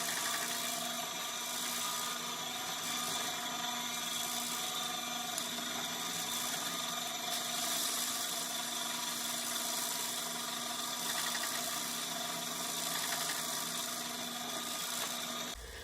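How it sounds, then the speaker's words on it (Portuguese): A bench drill fitted with a cheap hole saw cuts into wood that tends to burn, giving a steady, continuous whine and grinding hum that holds close and loud throughout without pause. "eu estou utilizando aqueles kits de serra-copo bem baratinho. E tem um certo tipo de madeira que elas queimam mesmo."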